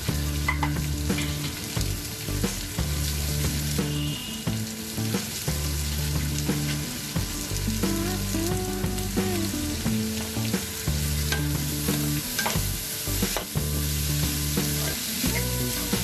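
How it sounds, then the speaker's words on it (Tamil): Finely chopped onions sauté in butter in a pan for pav bhaji, giving a steady, continuous sizzle with occasional stirring, heard beneath background music throughout. "நல்லா வதங்கிடணுங்க. வெங்காயமே தெரியாத அளவுக்கு வதங்கணும்."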